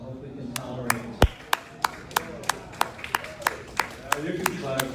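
Hands clap in a slow, steady rhythm at a delegates' meeting, a dozen or so distinct claps, with a faint voice murmuring underneath.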